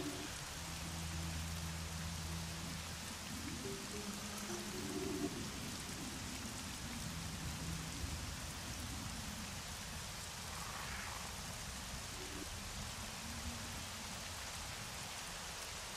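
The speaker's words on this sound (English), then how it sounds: "I don't think the rain did anything up here." Rain pours steadily in the Myst V: End of Ages game world, a continuous even hiss throughout, with soft low droning tones in the background during the first half.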